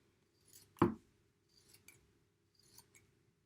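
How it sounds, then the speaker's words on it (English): A few crisp scissor snips cutting paper break the quiet, one sharp close snip followed by lighter, softer snips spaced apart. "you can use scissors to cut stuff out"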